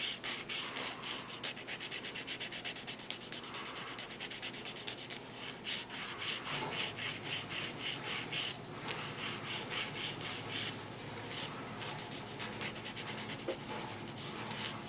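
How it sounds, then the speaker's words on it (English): An acrylic fake nail tip is filed with a 240 grit file, a close, dry rasping scrape repeated back and forth in a steady quick rhythm, heard alone. "So just file the acrylic or the fake tip."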